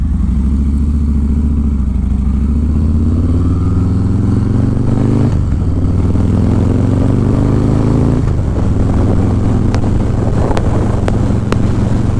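A 2019 Harley-Davidson Fat Boy motorcycle riding on a road, its loud low engine rumble rising and falling with throttle changes and heavy wind buffeting, continuous and close, with a few faint clicks near the end.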